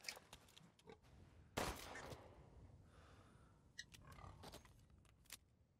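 A pig in the video game Resident Evil Village gives oinks and grunts over game ambience, with a sharp hit or shot sound breaking in partway through.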